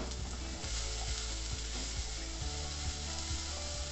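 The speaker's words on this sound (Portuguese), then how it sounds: "Já vamos refogando tudo aqui." Ingredients are sautéed in a pan with a dense, steady sizzle and rhythmic scraping strokes of a spoon, close and fairly loud.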